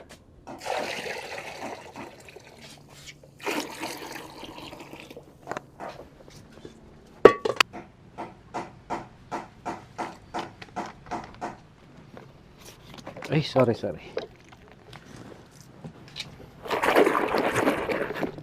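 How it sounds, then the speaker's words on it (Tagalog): Hot water poured into the bath basin of Teddy, a pet dog, splashing and gurgling in bursts with quiet pauses between, close by, with a brief spoken apology partway through. "Nilagyan ko ng mainit na tubig mga kadis, yung panligo ni Teddy Pen."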